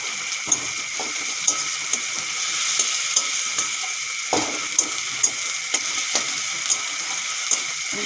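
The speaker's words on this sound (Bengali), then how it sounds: "পেঁয়াজগুলো এখন ভালো করে ভেজে নেব" Onions with curry leaves frying in oil for chicken curry, a dense, loud sizzle throughout, punctuated by regular taps and scrapes of a spatula against the pan, heard close with no speech.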